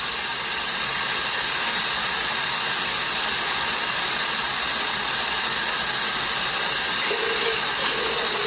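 A pot of potatoes boils on the stove with a steady, loud, unbroken hiss and bubbling that stays even throughout.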